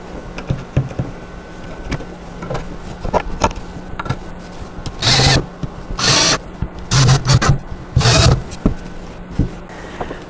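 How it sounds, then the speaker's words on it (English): A power driver whirs in several short bursts as four screws go into the footboard of a white wooden doll bed with trundle, loud and close, amid handling clatter and creaks, no speech. "I'm just going to lay this footboard here up on top and screw these 4 screws down into place."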